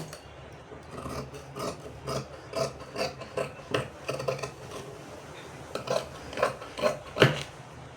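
Scissors snipping through fabric while cutting out a child's gown, a series of short rasping cuts in uneven rhythm, close by and moderately loud, with no talking.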